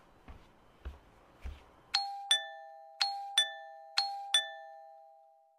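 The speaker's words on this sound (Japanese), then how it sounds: "玄関のチャイムが鳴った。" A front door chime rings three times in clear two-tone ding-dongs, bright and ringing in a quiet night house, after a few soft dull thuds.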